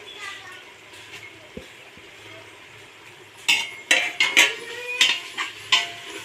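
A spoon scrapes and knocks against a pot while mushroom biryani is stirred with mint and coriander leaves: a quiet stretch, then a run of sharp metallic clanks close by. A faint voice is heard early on.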